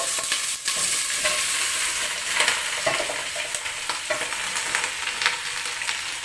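Vegetables being stirred around in a crowded frying pan, a steady close sizzle with scraping and clattering of the spoon against the pan throughout.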